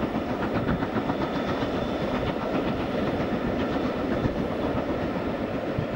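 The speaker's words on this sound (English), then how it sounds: "The Jacobite steam train," The Jacobite steam train runs along the line at Loch Eilt toward Fort William, a steady, fairly distant rumble of rolling carriages with rhythmic clickety-clack from the wheels and no voices.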